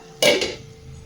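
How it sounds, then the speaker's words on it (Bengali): A metal lid comes off a pan used to cook small fish wrapped in banana leaf, giving one sharp clatter followed by a second lighter knock, close and clear with no talking. "এবার ঢাকনাটা খুলে নেব।"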